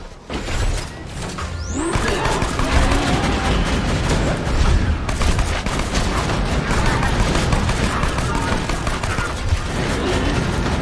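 Axton's sentry turret in Borderlands 2 firing nonstop, a dense rattling barrage of rapid shots with mechanical clatter, loud and continuous throughout, without talk.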